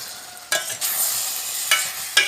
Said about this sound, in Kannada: ಈಗ ಚೆನ್ನಾಗಿ ಮಿಕ್ಸ್ ಮಾಡುವ